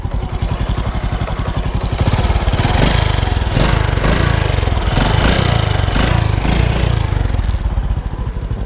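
A Honda Dream 125 motorcycle engine running loud and close with a fast, steady putter, its drive chain adding a continuous mechanical clatter that rises slightly after the first couple of seconds.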